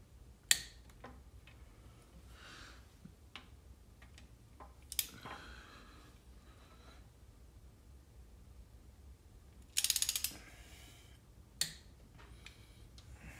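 Sharp, isolated clicks of a torque wrench tightening 10 mm engine cam chain tensioner bolts to 22 foot-pounds, a handful of quiet snaps spread sparsely over a hushed workshop background.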